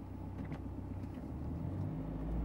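A Saab 9-3 NG Sports Combi 1.9 TiD front-wheel-drive estate bogs down in deep snow with its tires spinning. The engine drones steadily and faintly, with a muffled rise toward the end and no voices.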